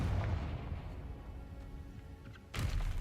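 Confringo spell blast in a wizarding video game, a heavy booming burst at the start that rumbles away, then a second sharp blast near the end.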